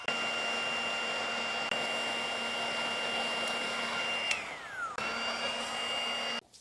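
A G-Torque heat gun warms a decal on a three-wheeled motorcycle, its fan blowing as a steady loud whine and whoosh with a constant tone that drops in pitch as it shuts off, then restarts and runs on before cutting out.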